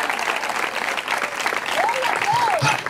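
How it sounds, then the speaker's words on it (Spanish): Church congregation applauding during a Spanish-language sermon, dense steady clapping from a large group with voices calling out above it. "Dele fuerte ese aplauso al Cristo de la gloria."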